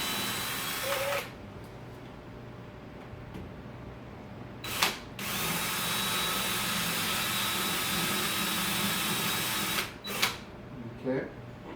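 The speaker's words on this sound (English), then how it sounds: "you're just going to do a little pilot drill in here into your" A power drill whirs in several sustained bursts, drilling pilot holes in a glass shower door threshold, close and loud, with short pauses and faint clicks between runs and a voice talking underneath.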